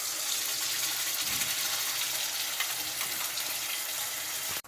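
Spice paste with a pinch of asafoetida, chilli, bay leaf and cinnamon sizzles in hot oil for a kaju paneer curry, a dense steady frying hiss close by that cuts off abruptly at the end.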